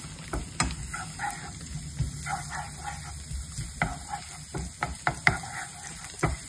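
Garlic sizzles as it sautés in a pan at the start of cooking squid adobo in coconut milk. The frying is soft and steady, broken by scattered sharp crackles and pops.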